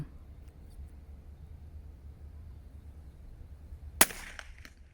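A single sharp rifle shot cracks out near the end after a quiet stretch, loud and close, with a brief ringing decay, fired at a balloon target 200 metres off through a Discovery VT2 3-12x44 scope.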